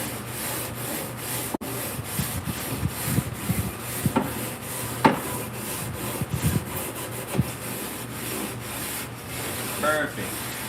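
A BBQ grill gets a vigorous scrubbing, with a continuous rough rasping of brisk back-and-forth strokes, loud and close, marked by a few sharper knocks.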